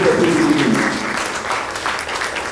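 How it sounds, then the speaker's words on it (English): Audience at a conference session on sustainable industry technologies applauds two speakers, a steady, fairly close round of clapping with a voice briefly audible underneath at the start. "my intent, okay, is to ask for your round of applause, all right, for our two speakers"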